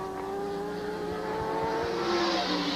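An IMSA Camel GTP race car at Portland in 1988 holds a steady, loud engine drone with a few gear-change blips, close by and running under faint background noise.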